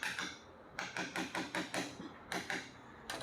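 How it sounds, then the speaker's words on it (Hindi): A hammer strikes repeatedly to punch screws out of a bag closer machine motor: about ten sharp, close metallic knocks in an uneven rhythm with brief pauses, and no talking. "अब धीरे धीरे इसे पंच करेंगे। देखिए, ये पेंच बाहर आ रहे हैं।"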